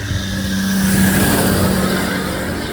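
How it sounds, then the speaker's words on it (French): Steady roar of trucks passing close on a busy road in Colombia, a continuous engine drone with low hum, no talking. "Ça me vrille la tête les camions là."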